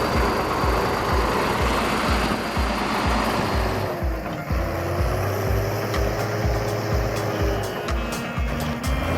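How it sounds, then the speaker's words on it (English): An Ursus 1614 tractor with a 150 horsepower engine works through deep mud in open fields, giving a steady, close, deep engine rumble with rhythmic low thumping that runs unbroken throughout. "In the middle of the vast fields, the deep sound of the Ursus 1614 resounded powerfully."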